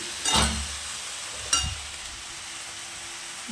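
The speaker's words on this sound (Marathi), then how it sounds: "परतून घेऊया आता भाजीला पण चांगलं" Fenugreek leaves with gram flour are sautéed in a pan, a faint background hiss marked by two short scraping stirs near the start, then a quiet steady sizzle.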